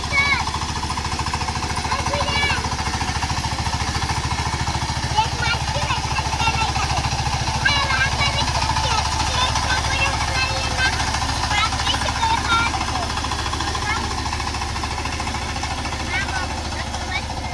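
A Sifang 25hp power tiller engine runs with a loud, rapid, steady knocking chug that continues unbroken from start to finish. Faint talk can be heard under it.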